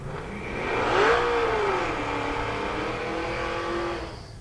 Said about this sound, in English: Positive displacement superchargers make the exhaust super loud.